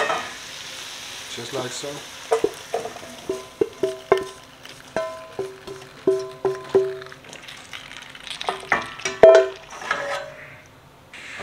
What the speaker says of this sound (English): I had those vegetables seared just like I want them. I'm gonna go ahead and add that to my pan.